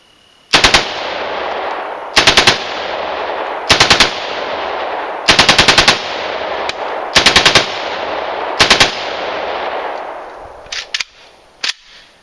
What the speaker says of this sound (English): This is an assault weapon. It's a full automatic, not the guns they're trying to ban.